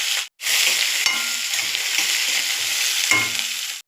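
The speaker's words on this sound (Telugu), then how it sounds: "ఆవాలు, కొంచెం మినపప్పు వేద్దాం. మిర్చి వేద్దాం. ఉల్లిపాయలు" Mustard seeds, urad dal, chillies and onions hit hot oil with a sudden bright hiss, then a loud, steady close-up sizzle with a couple of faint utensil taps.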